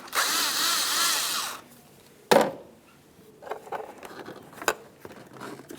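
A power tool whirs steadily for about a second and a half while loosening an 8mm headed clamp during alternator replacement on a 2002-2005 Ford Explorer, then stops, followed by a sharp clack and quieter handling clicks.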